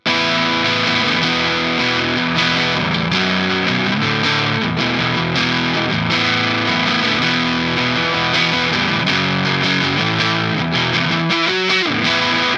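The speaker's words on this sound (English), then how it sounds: "and then we kick on distortion" Loud electric guitar with heavy distortion playing sustained chords and octave stabs from a song continuously, dense and gritty, with no voices.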